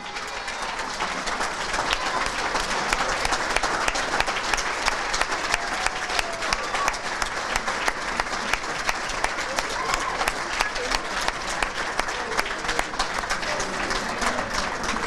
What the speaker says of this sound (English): let's have a round of applause for the 2015 class of the Hamilton City School District Athletic Hall of Fame